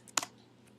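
Keystrokes on a computer keyboard while entering commands in a shell, a single loud cluster of clicks followed by quieter scattered taps over a low steady hum.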